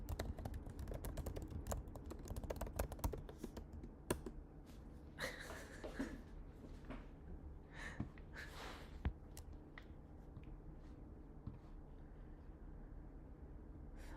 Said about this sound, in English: Should I order? I'm typing it down.